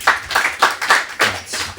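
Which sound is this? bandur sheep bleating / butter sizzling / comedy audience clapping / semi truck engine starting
comedy audience clapping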